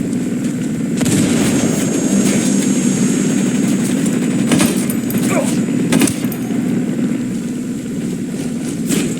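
Gunfire and a grenade blast sound in a Ghost Recon battle around a drug submarine and an armored boat. A few sharp reports crack out over a constant loud engine rumble, with voices shouting.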